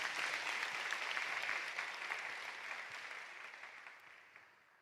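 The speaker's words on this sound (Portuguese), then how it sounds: "dá uma salva de palmas para Jesus." A church congregation claps during a sermon, a broad, fairly soft wash of many hands that gradually fades over several seconds.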